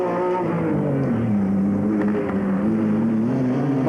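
A Formula Holden race car roars past at Sandown in 1990, its engine note rising and falling before holding a loud, steady drone, close and continuous with no speech.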